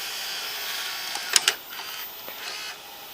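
A VCR mechanism whirs and clicks as it struggles to load a tape into play, a faint motor hum with a few sharp mechanical clicks in the middle.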